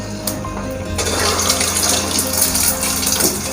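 Potato rice balls fry in hot oil over medium heat, giving a continuous loud, close crackling sizzle that stays steady throughout with no voices over it.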